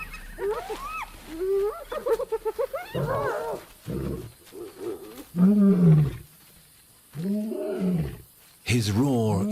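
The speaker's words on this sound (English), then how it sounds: "His roar is a powerful weapon." An old male lion in the African wild growls and roars amid a busy, mixed scene of grunts, calls and short bursts, loud at moments and fading at others, with other animal voices around it.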